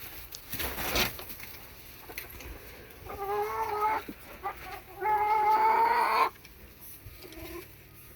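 Backyard hens cluck in two drawn-out bursts, with a shorter call near the end, moderately close against a quiet outdoor background.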